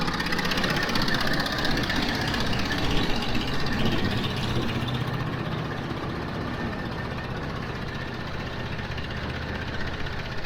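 A harvesting machine's engine idles slowly while warming up, a steady close rumble with a faint knocking pulse, running alone without talk.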